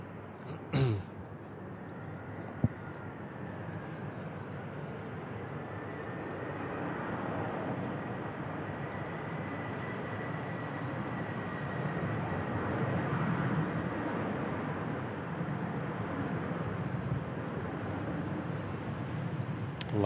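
A Ryanair passenger airplane arriving from Vienna passes at a distance, its jet engines a steady broad roar that slowly swells, with a brief click near the start.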